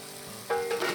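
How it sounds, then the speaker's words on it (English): Already-cooked chicken pieces sizzle as they brown in a pan, with a steady frying hiss and a couple of quick stirring scrapes, close by. "They're already cooked, so I'm going to also brown these."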